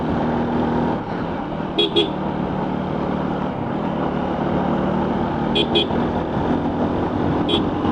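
A vehicle climbs a hill road, with the motor droning steadily underneath. Short, repeated horn toots come in small clusters several times over the stretch.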